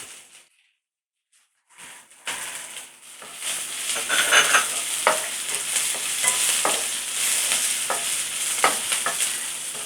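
Curry leaves and green chilli sizzle in hot oil in a pan for banana stem poriyal, a quiet start giving way to steady frying crackle with repeated scraping stirs.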